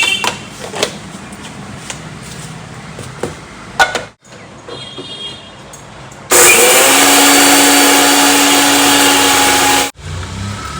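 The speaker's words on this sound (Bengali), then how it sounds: "ওই জন্য বেটে কিছুক্ষণ রেখে দিই, জিরে আর অল্প একটু সর্ষে" Cumin and a little mustard seed ground into a spice paste in an electric grinder, a loud steady whirring roar running for several seconds alone, after softer kitchen clatter and knocks.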